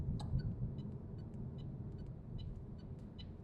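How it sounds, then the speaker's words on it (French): Turn signal indicator of a Citroën ë-C3 electric car ticking at an even, rapid pace, faint clicks over a low cabin rumble. "Écoutez-moi le clignotant."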